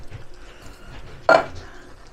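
Spaghetti sauce with diced tomatoes, basil, garlic, oregano and Italian sausage stirred in a pot, a single short scrape and clink of a utensil against the pot, close and clear.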